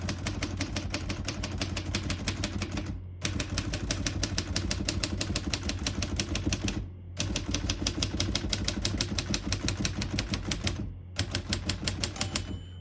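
Typing on a manual typewriter, a fast, steady clatter of key strikes in long runs broken by short pauses, close and clear.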